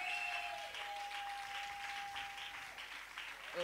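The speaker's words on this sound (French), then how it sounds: "On continue d'acclamer le Seigneur" A church congregation claps to acclaim the Lord, a dense, steady patter of many hands sustained throughout, fairly quiet, with a faint held tone underneath and no talking.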